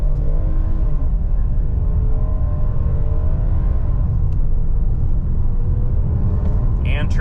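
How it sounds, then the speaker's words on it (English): A 2025 Hyundai Palisade SUV accelerates hard from a standstill in sport mode with traction control off, its engine note climbing steadily through the gears as a loud, continuous rumble under road noise. "0 to 60 in the Palisade."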